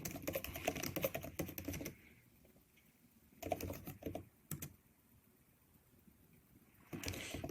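Someone types a command on a computer keyboard, with quick close key clatter in bursts separated by short quiet pauses.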